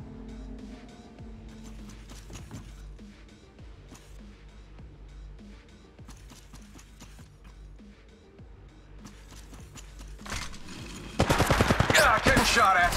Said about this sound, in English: Yeah, getting shot at.